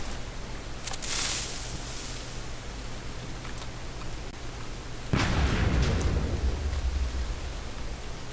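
TNT cannon in Minecraft firing a spread shot, with a sharp blocky explosion followed by a lower, heavier blast, both booming over a constant hiss of game ambience.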